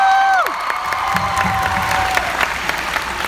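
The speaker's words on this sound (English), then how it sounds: "Let's have a round of applause for Kevin Feige" Audience applause at a Comicpalooza Q&A, a loud, dense round of clapping with some cheering from a crowd that holds steady throughout.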